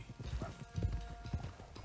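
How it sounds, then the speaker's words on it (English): Horse hooves clip-clop at a steady walking rhythm in Red Dead Redemption 2, a loose stallion moving fairly close, quiet and unbroken by speech. "One of the stallions is loose."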